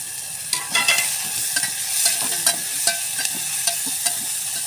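Samosa filling of tomato and chili powder fries in a hot pan, a steady close sizzle broken by regular scraping and clicking stirs of the spoon, with no voices.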